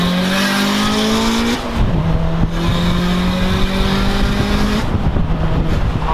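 A tuned Audi A4 with an EA113 engine screams through the gears in a street race on the Istanbul–Edirne road, loud close engine howl climbing in pitch, a quick shift drop, then revving hard again with tire and wind roar.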